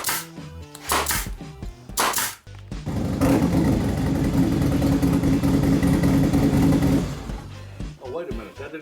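A motorcycle engine revs in a steady, loud roar lasting about four seconds, following a few short bursts of talk and ending as speech returns.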